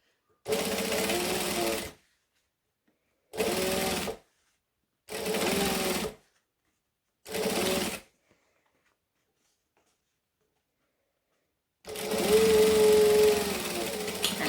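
Sewing machine top stitching a unisex sling bag, heard in four short bursts separated by silence, then a longer steady run at the end, close and clear with no talk.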